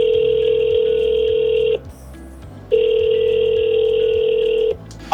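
A phone call ringing over a speakerphone: two long electronic ring tones, each about two seconds, separated by a short pause, loud and alone with no talk.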